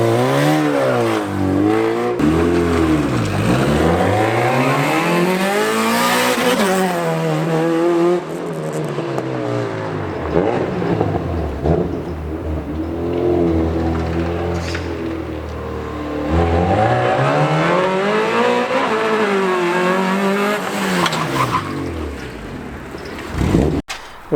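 A Honda Prelude drift car, freshly back after a misfire and cleaned spark plugs, revved hard in three long sweeps, its engine climbing and falling loudly and close with no voices over it.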